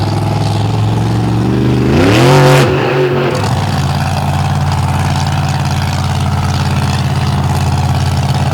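Wildside, the Market Savings Bank monster truck driven by Zach Garner, revs its engine loudly at a nighttime monster truck show by Lake Erie. A steady close rumble swells into one sharp rising rev, then settles back into a loud idle.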